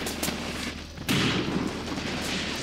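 Booming artillery fire in the Eastern Front war game Graviteam Tactics: Mius Front, with scattered distant shots giving way to a sudden heavy blast and a sustained rumbling barrage.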